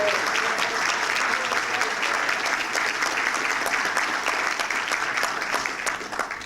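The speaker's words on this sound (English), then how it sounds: "Let's have a round of applause for her." A breakfast audience at the Middlesex Chamber of Commerce gives Lieutenant Governor Nancy Wyman a round of applause: dense, steady clapping from many hands that fills the room evenly and tapers slightly at the end.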